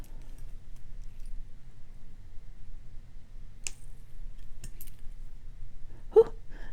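Cutters snip jewelry wire on a wire-wrapped bracelet, a few sharp isolated clicks against near silence, ending with a small soft breath.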